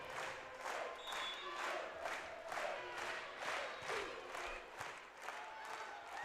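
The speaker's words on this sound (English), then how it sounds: "As now Big Blue Nation on their feet, clapping away" A large volleyball arena crowd stands and claps in a steady rhythmic beat during a Kentucky vs. Creighton NCAA regional final, with loud cheering and crowd noise carrying throughout.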